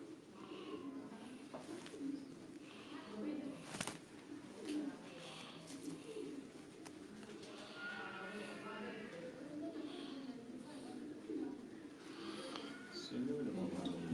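Pigeons coo in soft, low, repeated bursts close by, mixed with steady conversation and a few knocks in the background.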